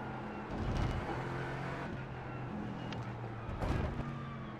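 LMP3 race car engines whine and rise as they close in at Long Beach in iRacing, with a couple of louder surges as they draw near over a steady motor drone.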